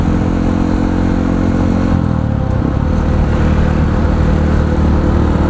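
A Yamaha WR155R motorcycle engine holds a loud, steady high-rev drone during a top-speed run in fifth gear, with a brief pitch dip near the two-second mark before it pulls on continuously.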